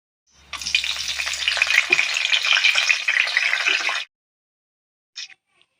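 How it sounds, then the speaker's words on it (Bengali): Chopped onions with salt hit hot oil in a pan, a loud close sizzle for about four seconds that stops abruptly, followed by a brief clink. "আমি এখন পেঁয়াজ কুচানোগুলো দিয়ে দিছি, আর অল্প করে লবণ দিয়েছি যাতে পেঁয়াজটা তাড়াতাড়ি মজে গিয়ে খুব সুন্দরভাবে লাল হয়ে যায়"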